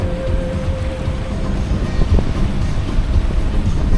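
Choppy Gulf Stream waves wash steadily around a sailboat at sea, a continuous broadband surge of water with wind buffeting the microphone, loud and close, no talking.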